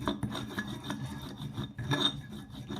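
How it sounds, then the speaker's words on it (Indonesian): Shallots and garlic are ground into a paste, a steady gritty rasping and rubbing that repeats in short strokes close by, with no talking. "Ini kita haluskan sampai betul-betul halus."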